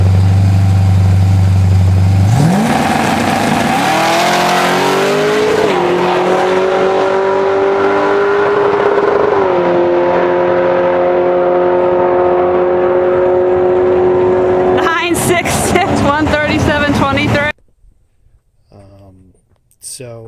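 A 1986 Ford Mustang GT running a 302 Mexican-block small block, bored 60 over to about 352 cubic inches, with long-tube headers and a Vortech supercharger. It climbs from idle into a long steady high rev, then drops back. Several sharp blips follow before it cuts off, with people talking over it.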